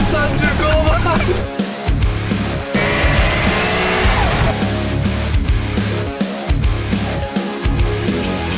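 A Jaguar Project 8 sports car driving, with a loud sustained engine roar that rises and dips through shifts and some tire noise, close and dominant.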